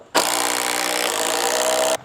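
A power tool whines steadily for just under two seconds, starting and stopping abruptly, with a rough grinding edge as it drives a 4-inch lag bolt into a wooden deck post.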